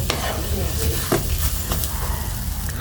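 Powdered milk being stirred into a bread-based mixture in a pan, with spoon scrapes and clinks over a steady low sizzle, close and moderately loud.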